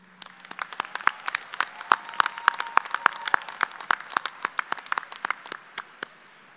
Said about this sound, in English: please join me in giving a big round of applause to those individuals who have helped